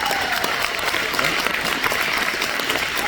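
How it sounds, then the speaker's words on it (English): An awards-night audience applauds student athletes at a football and baseball banquet; steady, dense clapping from a sizable crowd, sustained and fairly close throughout. "How about a round of applause for all these student athletes?"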